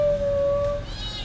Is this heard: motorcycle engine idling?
no